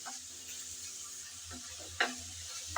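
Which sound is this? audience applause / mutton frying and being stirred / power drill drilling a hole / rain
mutton frying and being stirred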